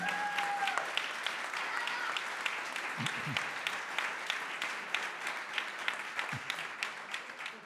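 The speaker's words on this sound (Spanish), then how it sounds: "Un aplauso para Marc Ambroyer" Sustained audience applause fills the room at a conference panel, steady dense clapping throughout with a few louder claps standing out and a brief whistle near the start.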